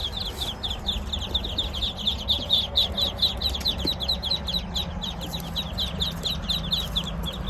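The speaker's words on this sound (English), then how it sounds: "These are Muscovy ducks. Just came in today." A box of 62 newly arrived Muscovy ducklings peeps steadily, a rapid, regular train of high chirps from many birds close by over a low background hum.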